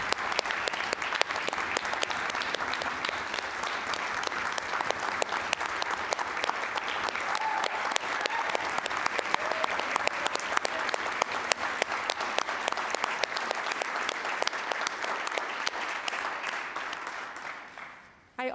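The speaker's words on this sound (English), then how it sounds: "give a huge round of applause for Judy Roberts here today." A church congregation at an Episcopal annual meeting gives a long, steady round of applause, dense clapping holding evenly for about eighteen seconds before fading out at the end.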